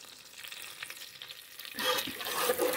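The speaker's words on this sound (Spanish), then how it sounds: "y ajo partido en rodajitas o fileteado para que se vaya acitronando" Sliced garlic and julienned onion sauté in butter and oil for a four-cheese pasta sauce, a quiet sizzle that swells louder partway through, with faint stirring and no speech.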